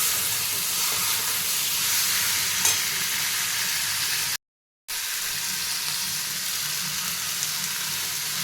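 Washed chicken cooking in a pan, a steady moderate sizzle and hiss, close, briefly cut to silence midway before resuming.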